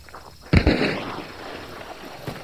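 A single sharp gunshot in Hunt: Showdown, close and loud with a short echoing tail, followed by a fainter distant pop.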